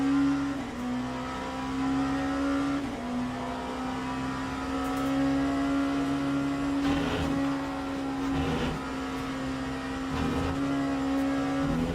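A steady, droning LMP2 prototype race car engine held at a fairly constant pitch around the Spa circuit in a racing game, with brief dips and lifts of throttle and a few faint clicks over the continuous hum.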